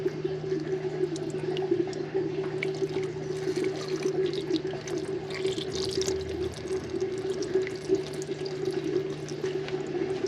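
Used engine oil drains from a car's oil pan, a soft continuous trickling and splashing into a container under a steady low hum, with no talking.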